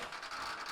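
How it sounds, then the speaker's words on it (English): A large drum weapon on a combat robot spins up in an arena, a brief harsh whirring rattle with a gritty mechanical buzz lasting under a second. "Malware spinning up that massive drum."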